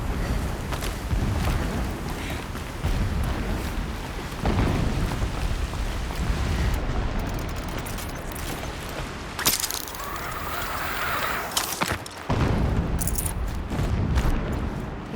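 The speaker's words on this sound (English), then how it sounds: "Explosions in the distance." Distant explosions rumble in the video game Horizon Zero Dawn, heavy booms and crashes rolling under a steady windy roar with occasional sharper bursts.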